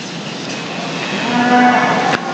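A beef cow in the show ring at an open class cattle show at the Nebraska State Fair lets out a single loud, close, drawn-out moo lasting about two seconds.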